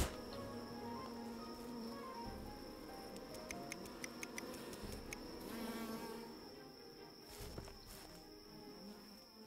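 Buzzing bees around a beehive in a farming adventure video game, a steady insect drone with scattered clicking ticks layered over a continuous background, moderate and even throughout.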